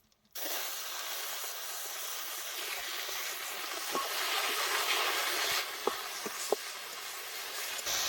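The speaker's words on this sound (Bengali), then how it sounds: "আমাদের ফোড়ন হয়ে গেছে, এখন আমরা সিদ্ধ করা কলার মোচাগুলো দিয়ে দেবো।" Boiled banana flower hitting hot tempering oil in a pan, bursting into a loud, continuous sizzling hiss that holds steady for several seconds, with a few sharp pops near the end.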